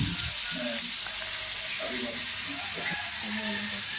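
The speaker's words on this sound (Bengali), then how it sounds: "এখন জল দিয়ে দিচ্ছে।" Water poured into a pan of shrimp curry with cauliflower and potato, a steady hissing sizzle with soft bubbling as the liquid hits the hot pan, continuous and close.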